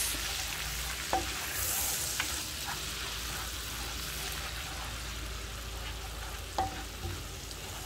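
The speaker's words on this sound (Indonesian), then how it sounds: "Setelah butter masuk, langsung aja kita masukin bawang putih dan cabai rawitnya. kita akan tumis" Garlic and bird's eye chilies sizzle steadily in melted butter, a continuous close frying hiss with a few faint utensil clicks against the pan.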